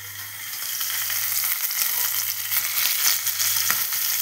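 Two pieces of tilapia frying in a pan give a steady, close sizzle with a constant low hum beneath, crackling spits scattered throughout and no voices.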